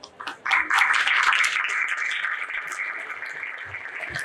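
An outdoor festival crowd at a storytelling session breaks into applause, a few claps first and then a steady, moderately loud round that carries on evenly.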